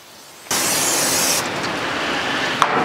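Aerosol spray hisses inside a Big Chief front-load electric smoker during seasoning, a sudden close burst starting half a second in, loud for about a second, then a softer sustained spray, ending with a faint click.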